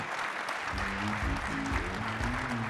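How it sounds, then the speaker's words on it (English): Audience applause for panelists at a conference panel on ICOs, a dense, steady wash of clapping from a crowd that holds for the whole stretch, with faint tonal music running underneath. "Please put your hands together and give a barrage of applause to the splendid talent"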